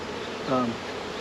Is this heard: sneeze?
no